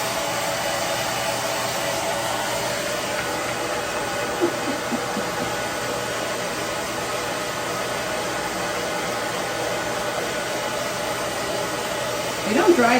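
A hairdryer blows on a chicken after its bath, a steady close whooshing hiss that runs unbroken, with a brief louder rustle near the end.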